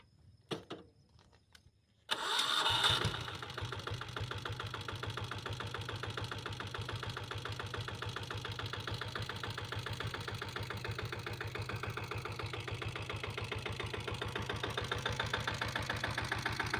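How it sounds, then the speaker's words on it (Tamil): A 2000 model Taurus bike is self-started after a few quiet clicks, then settles into a steady, rhythmic, thumping idle that carries on loud and even, with no voices. "வாங்க ஒரு வண்டி ஸ்டார்ட் பண்ணி பார்க்கலாம் வாங்க"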